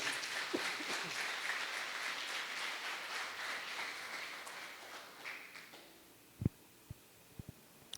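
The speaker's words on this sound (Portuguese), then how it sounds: "Vamos aplaudir Jesus?" Church congregation applauding during a sermon, a dense steady patter of many hands that swells for several seconds, then fades out, leaving a few scattered claps and thumps.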